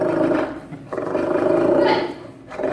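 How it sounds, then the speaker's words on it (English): A seal at a seal show barks on command, several loud, rough, growling barks close by, coming in bursts with short pauses between them. "So if I ask Omar to bark"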